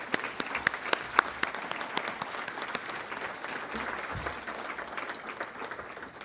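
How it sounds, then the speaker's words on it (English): Applause from the audience at a closing banquet of an MBA case competition, many hands clapping steadily at moderate loudness, with crisp individual claps near the start and a continuous crowd patter that fades slightly toward the end. "So big round of applause for all of you."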